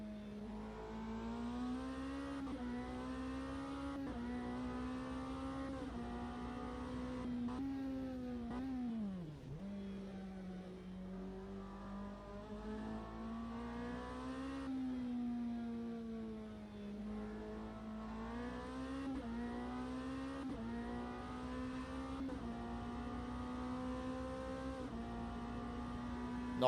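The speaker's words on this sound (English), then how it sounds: "the normal combustion engine takes off" Hybrid race car in a racing video game pulling away on battery power before its combustion engine takes over, a steady droning engine note that rises through gears with brief dips, loud and continuous with no talk.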